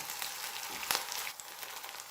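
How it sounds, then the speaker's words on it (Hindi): A chapli kabab mince patty fries in a pan with a soft, steady hiss and faint crackle. It holds at low level with one brief louder pop. "अब इसी तरह 3 से 4 मिनट के लिए अब मैं दूसरी तरफ से भी इसको पका लेती हूँ"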